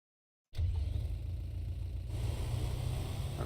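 A tractor engine in the farming game Real Farm runs steadily at a low idle, a continuous rumbling drone that starts abruptly after a short silence and stays even throughout.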